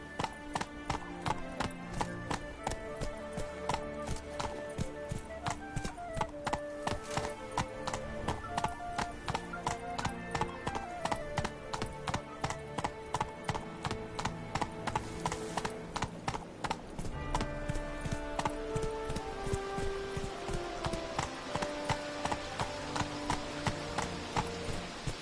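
Horse hooves clip-clop steadily in The Witcher 3 video game as the mount trots along, a regular rhythm of hoof beats under game music and ambience, with no talk.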